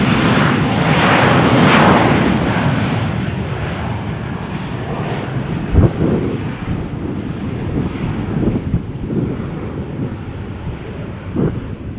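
A Lufthansa airliner takes off from runway 13 at Malaga Airport on a stormy morning. Its engines make a loud, steady broadband roar, mixed with gusting wind noise across the microphone, and the roar eases slightly over time.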